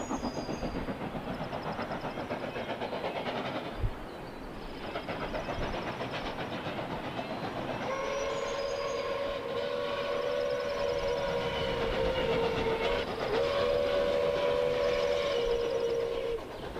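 A large steam train climbing a hill rumbles steadily along with a constant low mechanical roar, and a sustained whistle-like tone rises partway through and holds for several seconds.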